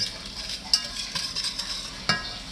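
Seafood boil sauce being stirred in a pot, a soft continuous sizzle with scattered spoon scrapes and two sharper clinks, no voices.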